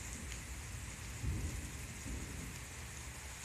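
Steady rain and low rumbling thunder during a severe thunderstorm in Tarrant County, with a louder thunder roll swelling near the middle over constant rainfall hiss.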